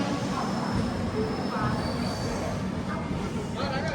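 A train rumbles at Madgaon railway station, a continuous low rolling noise of carriages with faint squeals and clanks on top, heard from the platform at moderate level.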